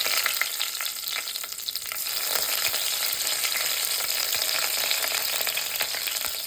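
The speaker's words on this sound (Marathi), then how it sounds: "तडतडू द्यायचा आहे कढीपत्ता छानपैकी." Curry leaves crackle and sizzle in hot oil while tempering for a mutton sukka masala, a steady dense frying hiss with sharp pops throughout, close and fairly quiet, with no voices.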